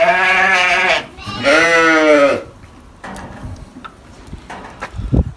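Sheep and lambs bleat in a barn pen, two long close bleats followed by quieter shuffling and rustling, with a few fainter calls at the end.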